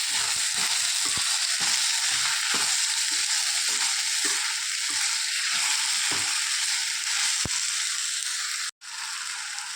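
Chopped tomatoes fry in hot oil in a pan for chicken curry, a steady loud sizzle filling the whole clip, with soft repeated scrapes of stirring and a brief dropout near the end.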